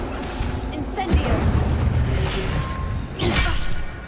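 Fire spell cast in Hogwarts Legacy: a booming burst with crackling noise, followed by a second whooshing blast a couple of seconds later, while a voice speaks over the game sounds.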